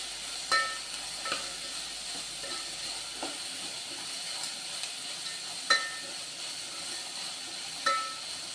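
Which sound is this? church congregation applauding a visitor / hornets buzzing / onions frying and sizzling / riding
onions frying and sizzling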